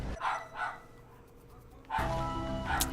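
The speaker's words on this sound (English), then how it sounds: "there's no way I'm going to stop that dog until my family goes" A dog in the game Jak and Daxter: The Precursor Legacy barks in two quick yaps, pauses, then barks again in a louder, sustained burst, close and prominent over a low background hum.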